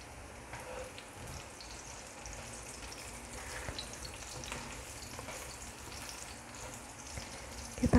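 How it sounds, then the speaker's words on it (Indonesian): Tempeh fries in a pan of oil while being cooked for a Javanese dish, giving a soft, continuous crackling sizzle at low volume with small pops scattered through it and no talking. "Tempenya kita goreng dulu sampai matang ya."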